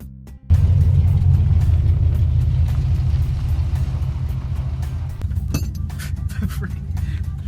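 A worn Chevrolet Nova with its gas tank held up by baling wire starts a test drive, its engine rumbling loud and steady from the cabin after a brief quiet start, with light rattles over the top.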